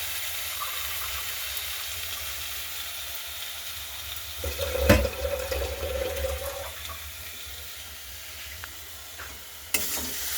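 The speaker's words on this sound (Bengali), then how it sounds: "একটু জল দেব, দিয়ে যাচ্ছি।" Water poured into a pan of spinach and egg curry on the stove, bringing a brief burst of sizzling and splashing midway through a quieter background of gentle frying, followed by a faint clink.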